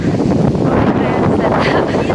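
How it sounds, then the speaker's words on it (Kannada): Wind buffets the microphone in a steady, rumbling roar with no pauses. "ಗಾಳಿ ಹೆಂಗೆ ಬರ್ತಾ ಇದೆ ನೋಡಿ"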